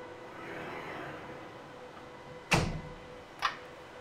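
A Genexus sequencer instrument's door swings shut with a firm thud, followed about a second later by a softer latch click, over a faint steady machine hum.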